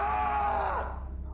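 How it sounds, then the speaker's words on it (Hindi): A man screams in fear in an animated horror story, a loud strained tonal yell that holds for most of a second, then drops off and fades out. "अभिषेक डर के मारे चिल्लाया"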